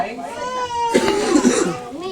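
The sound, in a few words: children crying during a church sermon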